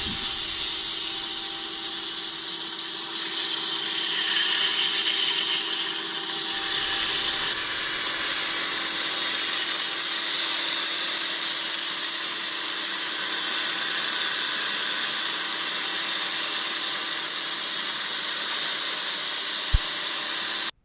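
A Sapele wood bowl spins on a lathe while being sanded, a steady loud whirring drone with a constant high whine running without a break, no talking.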